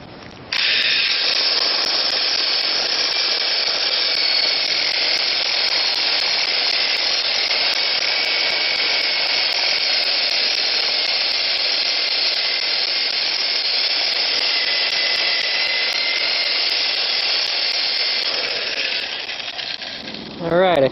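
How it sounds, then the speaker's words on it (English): A kiteboard under repair being sanded with a power sander, a loud, continuous, steady buzzing grind that runs unbroken for about twenty seconds before stopping abruptly. "Alright, I finished sanding"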